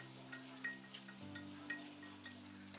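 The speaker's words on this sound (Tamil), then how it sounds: "இப்போ இதை நல்லா ஃப்ரை பண்ணிக்கலாம்" Garlic, ginger and bay leaf frying in a little oil for mutton gravy, a faint soft sizzle with a few light pops and crackles under a steady low hum.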